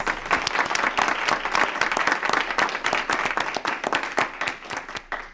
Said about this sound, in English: I invite us to give them a big round of applause